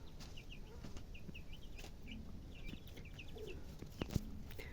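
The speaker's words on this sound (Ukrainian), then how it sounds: "Завела я курчат для того, щоб були курі, щоб були і яйця." Chickens kept as young hens for eggs cluck in short repeated calls at moderate distance, with some wing flapping and faint background noise; no talk is heard.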